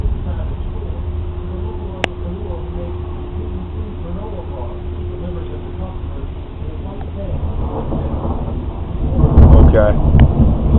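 A springtime thunderstorm with low rumbling thunder and a steady wash of rain that grows heavier and louder toward the end, with a sharp crack partway through and a person talking over it.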